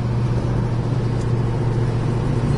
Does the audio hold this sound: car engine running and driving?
yes